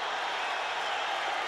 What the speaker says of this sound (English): Crowd on its feet in proper tribute